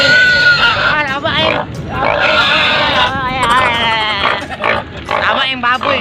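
Pig grunting on a farm in Libona, Bukidnon, a series of rough snorts and grunts, loud and close, with voices talking over and around them throughout.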